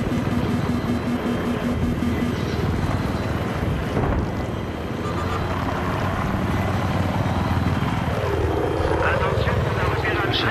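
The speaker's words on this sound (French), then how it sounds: "J'ai un hélico derrière moi." Helicopter rotor and engine drone in the Battlefield 3 video game, a loud continuous whir filling the scene, with a pitch sweep late on and someone talking over it.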